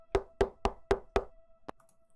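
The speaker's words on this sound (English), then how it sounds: "I pounded my fist on the door and waited." A fist pounds on a security room door in an interactive story game, five evenly spaced heavy knocks followed by one quieter knock, close and clear with no talk.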